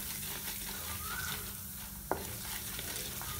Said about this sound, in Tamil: இப்போ இதை நல்லா மிக்ஸ் பண்ணி விட்டுடலாம்.